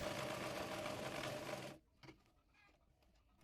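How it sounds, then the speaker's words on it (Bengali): A sewing machine stitches salwar fabric in a fast, steady whir for under two seconds, then stops, leaving a few faint clicks in near silence. "এরপর কলির কাপড়টির উপর চাপ সেলাই দিয়ে নেব।"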